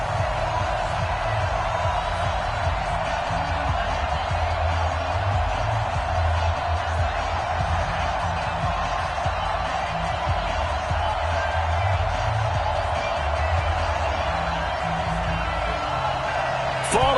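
Steady roar of a home stadium crowd in an NFL video game before a matchup with the Los Angeles Chargers, a continuous cheering wash under a commentator's voice.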